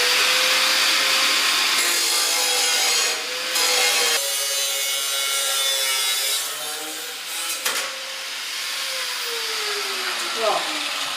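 Welded metal pieces cut off the front bumper of a 1976 Mazda RX with a power tool: a loud, close, continuous grinding whine whose pitch rises and dips as the blade bites, with brief pauses in between.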